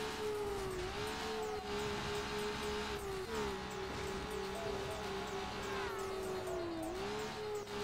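Car engine in Need for Speed: Underground holding a steady, loud drone through a curve, dipping briefly as the throttle lifts and then rising again, with faint tyre noise and no talk.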